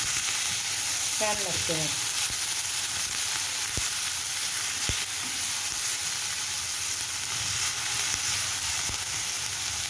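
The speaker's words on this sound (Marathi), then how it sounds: "थोडीशी तेलावर परतून घ्यायची जरा" Something sautéing in oil for pav bhaji gives a steady, loud sizzling hiss across the whole stretch, with a few sharp clicks of a utensil and a brief spoken comment early on.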